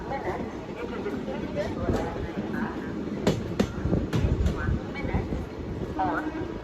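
A passenger train, the Begumpura Express, pulls into Sultanpur Junction station, with rolling rail rumble, clanks and sharp metallic knocks under a busy platform ambience and a voice talking throughout.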